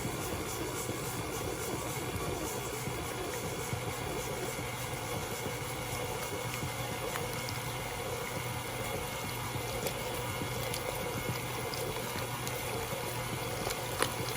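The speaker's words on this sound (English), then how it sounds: "here comes some hot water" Hot water pours steadily into melted lard and cornmeal for tamale dough, a continuous low liquid rush that runs unbroken and fairly quiet throughout with no talking.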